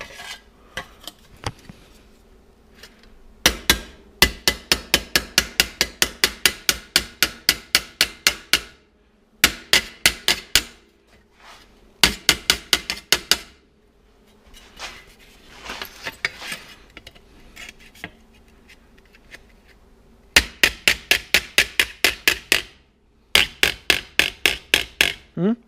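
A hammer strikes steel in a metalwork shop, rapid bursts of sharp metallic taps repeated in runs of ten or more blows, separated by short pauses, moderately close with faint background noise and no talk.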